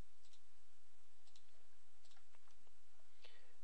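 Mouse clicks while a user works in Autodesk Revit 2014, including double-clicks to select and edit elements. Faint, sharp taps come in small groups scattered across a quiet room, with no talking.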